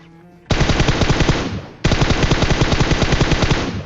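Gunfire in a battle royale mobile game breaks out as two loud, sustained bursts of rapid automatic fire, the first lasting about a second and the second running continuously to the end, close and dominant with no voice over it.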